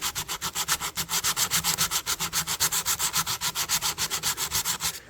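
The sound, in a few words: rough sanding a rusted pocket knife with 400 grit sandpaper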